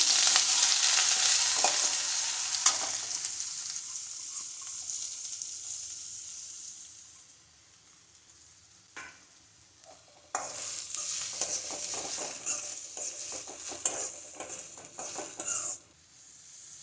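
Chopped small onions sautéing in oil for mutton kulambu, a bright sizzle that fades to near quiet midway, then returns with stirring and light clinks of utensil against pan.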